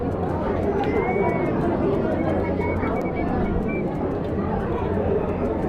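Pigeons coo softly among a dense, constant crowd murmur in the courtyard of Kamakhya Devi temple, where many worshippers talk and move around; the birds stay faint under the chatter.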